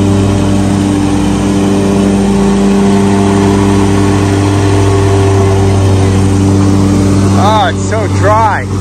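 A lawn mower engine runs steadily at close range with a constant droning hum throughout, during a landscaping job on a dry lawn, with a voice speaking over the engine near the end.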